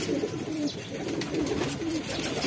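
Pigeons coo repeatedly at close range, soft low rolling calls that come one after another over faint background noise.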